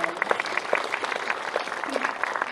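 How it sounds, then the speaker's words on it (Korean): An audience applauds at a film screening with a guest visit by the actors. Many hands clap in a dense, continuous patter, with a few voices rising faintly over the clapping. "박수 좀 부탁드릴게요"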